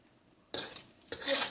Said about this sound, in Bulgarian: Трябва постоянно да го бъркате, да не застоява, защото се слепва.